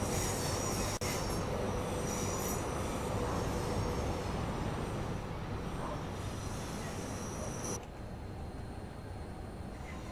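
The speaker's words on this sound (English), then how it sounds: "Nice sound from the flanges." Train wheel flanges squeal against the rails in a train simulator game, a thin, sustained high-pitched screech over a steady rolling rumble that cuts off abruptly near the end.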